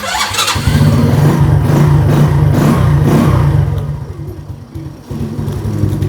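A motorbike engine revved with the throttle makes a loud, close, low rumble that holds steady, sags briefly near the end, then picks back up. No one speaks over it.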